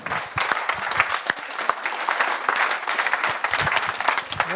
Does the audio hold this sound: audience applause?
yes